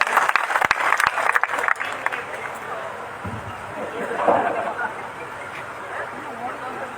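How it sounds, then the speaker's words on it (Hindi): Applause and crowd noise at a BJP political rally stage event, a burst of clapping in the first few seconds that thins into background murmur and voices. "एक बार जोरदार ताली से इनका स्वागत करें।"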